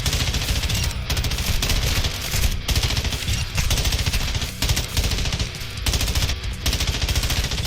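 Rapid automatic gunfire from an M13B rifle in Call of Duty DMZ, loud close bursts of dense shots broken by short pauses, repeating across the whole stretch with no talk.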